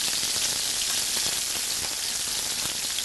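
Scallops searing in a hot pan, giving a steady, close, even hiss of sizzling with fine crackles throughout and no talking.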